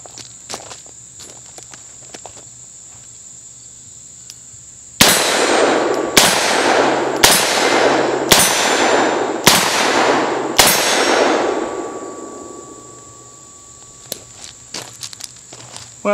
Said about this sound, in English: let's see if I can keep a hold of these things firing double action now.